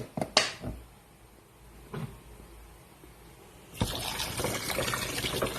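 Boiling water pours steadily into a kitchen container after a few knocks and clatters, the rushing, splashing flow starting partway through and continuing close and moderately loud, with no talk.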